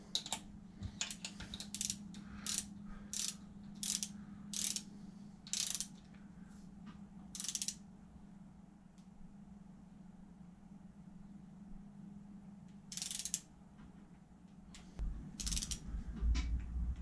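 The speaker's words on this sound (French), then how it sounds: "il vous faudra vraiment une petite clé dynamométrique" A small torque wrench tightening bolts on the upper end of a V6 ES9J4S engine, giving repeated quick ratcheting click bursts, close by, over a steady low hum, with pauses between strokes.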